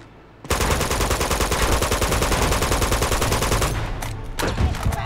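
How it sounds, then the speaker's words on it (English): Rapid automatic gunfire in the Uncharted 2: Among Thieves video game, a loud sustained burst of machine-gun shots for about three seconds, followed by a few scattered single shots. "He's literally shooting me through the wall"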